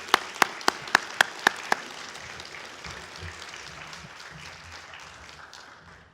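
An audience applauds for congratulated students, opening with several loud, sharp nearby claps before settling into a broad wash of clapping that gradually fades toward the end.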